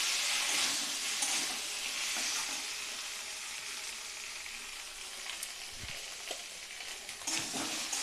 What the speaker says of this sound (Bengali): এই মশলাটা দিয়ে কিন্তু এভাবে আমি কষে নিচ্ছি।